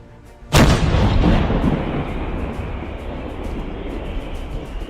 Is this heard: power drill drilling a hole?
no